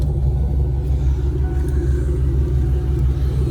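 A 1996 Ford Mustang GT engine and exhaust run steadily nearby, a loud, deep, even rumble with no talk over it.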